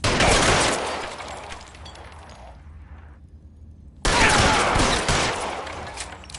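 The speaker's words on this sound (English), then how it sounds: "Dude, I shot you in the head twice" Gunfire in L.A. Noire: a dense, loud volley of shots, then a quieter lull and a second sharp burst of firing, with no talking.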